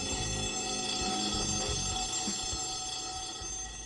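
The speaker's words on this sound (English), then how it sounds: "Suddenly, a loud bell rings in the firehouse." A loud fire alarm bell in a firehouse rings continuously with a steady, harsh tone and low rumbling underneath, filling the whole stretch without pause or talking.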